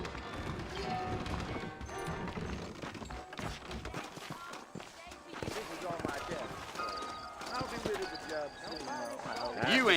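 Saddled horses' hooves clopping in the Red Dead Redemption video game, a loose rhythm of knocks heard under music and a voice speaking.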